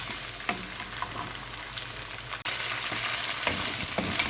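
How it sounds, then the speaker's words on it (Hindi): Chicken pieces frying over high heat for a dhaba-style chicken karahi give a steady, close sizzle throughout, with a few soft stirring scrapes and one short break partway through. "तेज़ आंच पर तकरीबन 5 से 7 मिनट तक चिकन फ्राई कर लूँगी मैं।"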